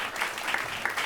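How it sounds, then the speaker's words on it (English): Brief burst of audience clapping for a panelist at a farmland protection event, a short even patter of many hands at moderate distance. "Round of applause for Klaas"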